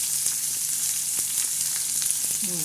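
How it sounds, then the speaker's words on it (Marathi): Sprouted bean usal with tomato, onion and curry leaves sizzles steadily in a pan while a spoon stirs, giving a few sharp clicks against the metal over a constant crackling hiss, close by with no talking. "टमाटे टाकले कांदा टाकला आणि कढीपत्ता टाकला आहे आता आपण चांगला हलवून घेऊन आहोत"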